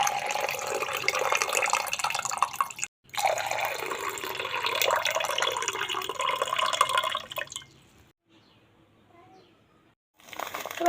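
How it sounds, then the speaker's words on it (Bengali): Water from soaked sago is poured off into a sink, a splashing, trickling pour for about seven seconds, a short break near the third second, then quiet before a brief clatter at the end. "সাবুটা অনেকক্ষণই ভিজিয়েছি, সাবুটা বেশ ভালো ভিজেছে, এই যে একদম ভালো ভিজেছে। জলটা ফেলে দিই।"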